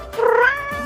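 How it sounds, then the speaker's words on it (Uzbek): A cat gives one drawn-out, rising meow, loud and close, as it nuzzles its kitten indoors, with no talk. "Mushiga o'zini bolasidan erkalab o'tiribdi."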